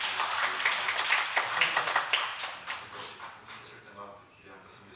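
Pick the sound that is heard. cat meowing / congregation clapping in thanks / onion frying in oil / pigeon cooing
congregation clapping in thanks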